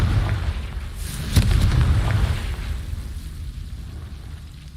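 A Confringo spell explosion in Hogwarts Legacy, a single fiery blast bursting with a deep boom that rumbles and slowly fades.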